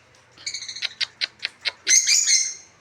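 African lovebirds give a quick series of sharp, high chirps, then a louder burst of squeaky twittering, close by with no talking.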